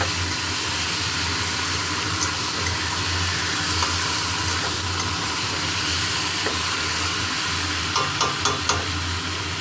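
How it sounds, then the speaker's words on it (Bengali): Chicken marinated with coriander and lemon is stir-fried in a pan alongside pre-fried potatoes, making a steady, close, loud sizzle with occasional light scraping clinks from stirring. "এটা ভালো করে কষা, চিকেন কষা হচ্ছে, এখনো অনেকক্ষণ হবে।"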